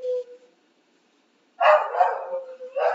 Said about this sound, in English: I don't know if you can hear my doggy barking or not